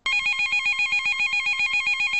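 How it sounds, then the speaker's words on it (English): A telephone rings with a fast warbling electronic trill, loud, close and continuous, with no voices. "Then the phone rang."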